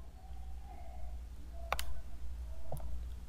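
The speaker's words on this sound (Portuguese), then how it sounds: "Vamos agora com o atalho no teclado Windows R." Two quick key clicks from a computer keyboard as a Windows+R shortcut is pressed, close and fairly crisp over a low steady hum, with no talking.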